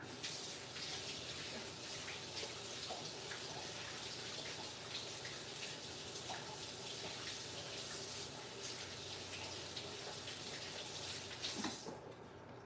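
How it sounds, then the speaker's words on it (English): Hands are washed under a running kitchen tap, a steady close splashing rush of water that runs unbroken for about twelve seconds before stopping near the end. "I have to wash my hands."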